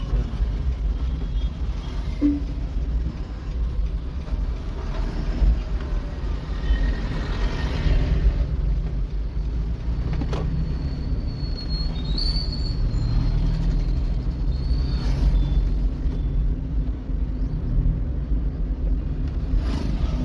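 A car driven along a road during a driving lesson, with a steady low engine and road rumble throughout and a few faint higher squeals and clicks near the middle; no talking.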